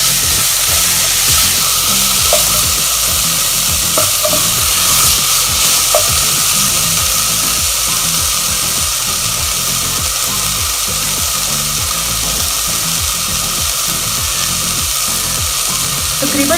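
Chickpeas with spices and salt fry in a pan and are stirred, giving a loud, continuous sizzle with scraping stir strokes throughout, no talking.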